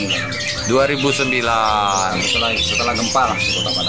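Raucous squawks and chirps from many caged birds in a bird shop fill the space, loud and continuous, with someone talking over them.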